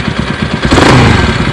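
A Bajaj Pulsar NS 200 motorcycle engine runs close by with a pulsing idle, then revs hard into a loud, sustained high-rpm roar that holds to the end.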